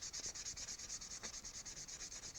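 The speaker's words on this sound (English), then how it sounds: "I will sand the whole thing" Higher-grit sandpaper rubs over a soft plastic model in quick, even back-and-forth strokes, a soft rhythmic hiss, close and quiet, with no speech.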